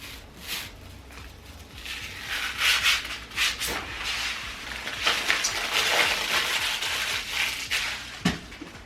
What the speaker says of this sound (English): Now this is all the plastic thingies, foil, and of course that peeling moment.